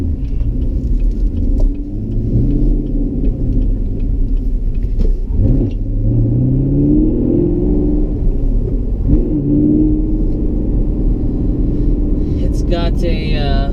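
A 2016 Chevrolet Camaro SS with its 455-horsepower V8 cruises along, heard from inside as a continuous deep engine rumble with gentle rises in revs and a loud, steady road drone throughout.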